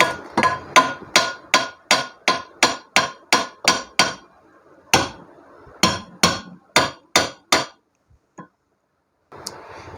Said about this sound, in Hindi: तो इसके ऊपर हम थोड़ी थोड़ी चोट मार देंगे और इसको अच्छे से फिट कर लेते हैं